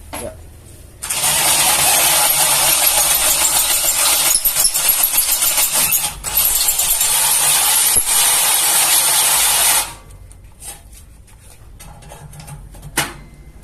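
A Kamolee 10mm cordless brushless drill spins up and runs at full speed with a loud, high whine, dips briefly twice, then cuts out. Faint handling clicks follow.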